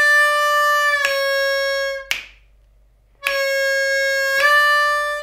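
A blues harmonica plays a held draw note that bends down with a sharp attack, cuts to a full second of silence, then repeats the same bent phrase, close and loud.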